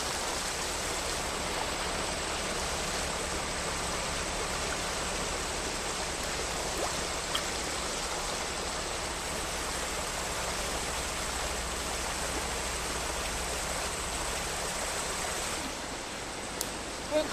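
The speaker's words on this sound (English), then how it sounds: "We were crossing the creek and we noticed it downstream." Steady creek water rushes and gurgles continuously at close range through a TV drama scene, a broad even flow with no talking over it.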